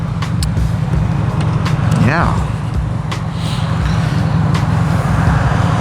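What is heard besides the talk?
road traffic passing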